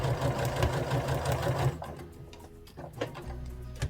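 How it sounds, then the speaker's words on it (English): Sewing machine running a diagonal stitch across bear overalls, a dense steady whir for nearly two seconds, then stopping and giving way to softer clicks and a short low hum near the end. "I need to do one more diagonal stitch."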